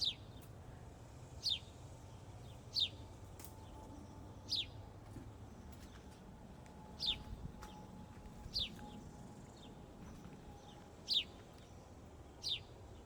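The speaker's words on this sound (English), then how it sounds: "So you hear the bird." A small bird gives short, sharp chirps at regular intervals, about one every second or two, over a quiet outdoor background hum.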